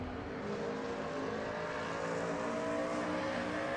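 Simulated race car engine in a NASCAR-style cup series oval race, a steady loud continuous drone holding throughout with slight rising pitch as the car accelerates back onto the throttle, no voices.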